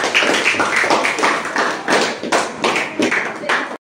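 Eighth-grade students clap their hands in a classroom, a close, uneven burst of claps in several swells that stops abruptly.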